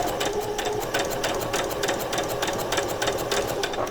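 A sewing machine runs steadily, stitching backward on a doll's coat with a fast, even mechanical chatter that lasts the whole time, close up and without pause.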